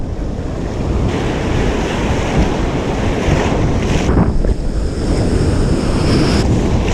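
Strong wind buffets the microphone on an open beach while surf rolls in continuously, a loud, unbroken roar with gusty swells and no voices.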